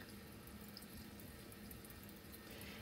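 Low-running tap water flows steadily into a sink while a paint brush is rinsed, making a soft, continuous splashing hiss that stays quiet and even throughout, with no voices.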